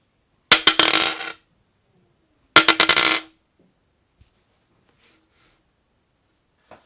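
A 4mm ivory-substitute Iron Age Customs Parthenon plectrum is dropped twice onto a hard surface, each drop a bright clattering burst of quick bounces that dies away within a second, with silence between.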